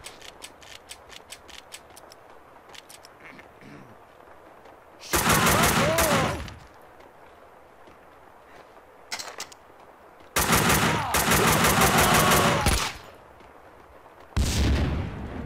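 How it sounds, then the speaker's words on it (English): Gunfire in the video game Max Payne 2 sounds as several loud, dense bursts of rapid automatic shots, each lasting one to two seconds. Quieter clicks and mechanical game sounds fill the gaps between them. "he shot after he got killed"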